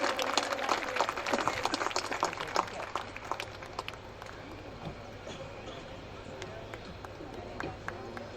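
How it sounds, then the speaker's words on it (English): Students at a graduation ceremony applaud with a crowd's patter of many claps, loudest at first and then thinning to scattered claps, with a voice speaking over it. "Please clap, everybody, all the students present here."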